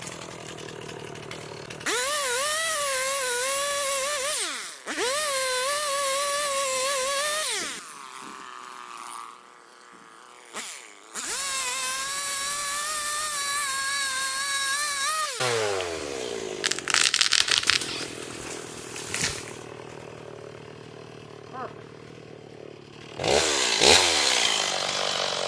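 A chainsaw notches a softwood tree for felling, running loud and close in long buzzing cuts with pauses, revs and idling between them.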